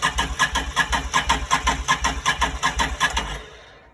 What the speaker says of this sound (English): Engine tries to turn over, but it will not start.